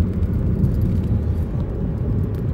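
A car drives along at night around one in the morning, its steady low engine and road rumble humming continuously from inside the cabin without pause.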